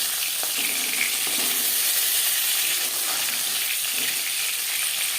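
Pieces of bata fish fry in hot oil in a wok, producing a loud, close, unbroken sizzle with faint crackling and no voices.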